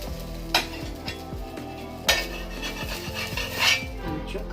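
Cooking sounds at a hot griddle being readied for dosa: soft continuous sizzle under a few sharp metallic clinks and scrapes of utensils, close and moderately quiet, with no speech.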